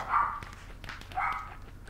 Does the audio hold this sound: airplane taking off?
no